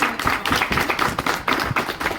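Crowd at a Chhattisgarhi film launch ceremony clapping steadily to welcome the cast, dense continuous applause close by.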